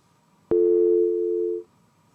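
A single steady electronic telephone tone sounds for about a second after a brief click, then cuts off, leaving quiet line hiss.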